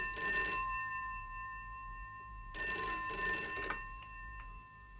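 Telephone bell ringing in a Trumpton stop-motion animation, two loud bursts of trilling rings separated by a short pause, with no voices.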